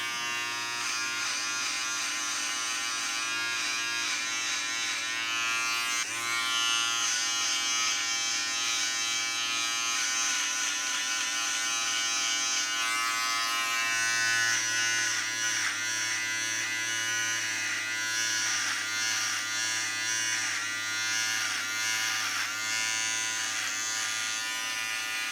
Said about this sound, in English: I just want to mention as well that the trimmer, it does not pull or it doesn't scratch, so it works really good.